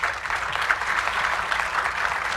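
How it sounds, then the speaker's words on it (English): Applause from the audience at a Palm Springs Life housing market presentation, a steady wash of many hands clapping that holds at an even level for a couple of seconds with no voices over it. "we should give them a round of applause for taking that approach"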